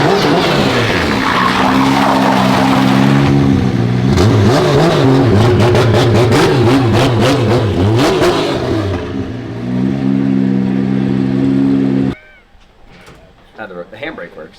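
An engine-swapped race car revs hard and skids, its loud engine note rising and falling with rapid tire chatter before cutting off abruptly, followed by quieter sounds near the end.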